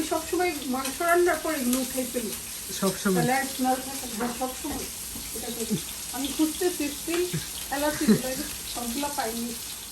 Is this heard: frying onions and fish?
yes